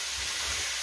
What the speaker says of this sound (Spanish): la cebollita y el cilantro a que se vayan friendo